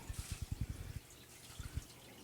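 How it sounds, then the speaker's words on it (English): Water splashed into a row of gold pans holding classified paydirt, heard as close, uneven wet plops and trickles in two short bursts with a brief gap between. "I just need to throw a little water in each of these pans"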